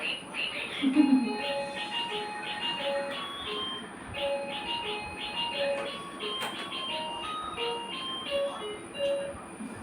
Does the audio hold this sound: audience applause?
no